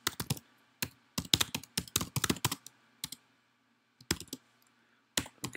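Typing on a computer keyboard while writing Java code in the Eclipse editor, close crisp key clicks in quick irregular bursts with short pauses between them, no talk.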